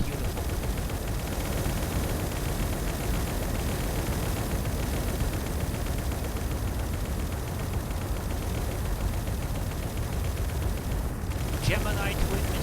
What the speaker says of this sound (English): Oh god, look at those explosions.